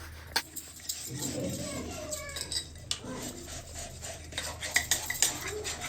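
Dishes and pots being washed by hand, with steady clinks and clatters of utensils against metal over running background noise while someone talks nearby.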